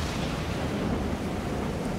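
Continuous broadband rush of salt water washing over a wooden raft deck by the sea in the survival game Stranded Deep, steady and fairly loud with no voices.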